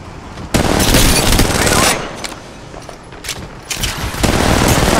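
Rapid automatic gunfire in Apex Legends Mobile, loud sustained bursts of rattling shots that cut off and resume in several long volleys, with a voice calling out amid the shooting.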